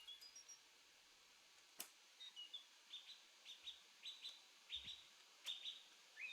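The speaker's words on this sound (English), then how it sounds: "if you go into a forest, you'll hear birds chirping." Synthetic birds chirping in a Minecraft forest biome, from an ambient sounds mod: short bright tweets repeat in a steady series, with a few brief clicks among them, quiet and clear over faint background hiss.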